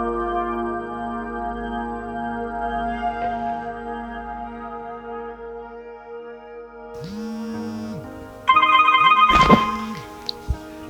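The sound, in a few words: telephone ringing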